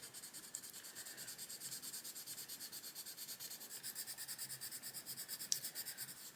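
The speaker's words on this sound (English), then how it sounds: "I'm going to use the Prisma pencil." Prisma coloured pencil rubbing steadily across paper while colouring, a close, continuous scratchy rasp with even back-and-forth strokes and no talk.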